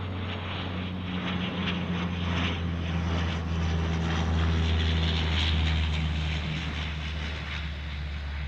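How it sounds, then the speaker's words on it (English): A Dash 8 Q300 turboprop arriving on runway 34 at Melbourne Airport gives a steady droning propeller roar with a low tonal hum, slowly swelling louder and then easing, heard from a distance with no talk. "And arriving here on runway 34, we have another Dash 8 Q300."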